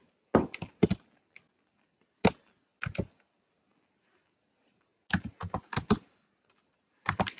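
Computer keyboard typing in short clustered bursts of crisp key clicks, separated by pauses of near silence, close and clear with no talk.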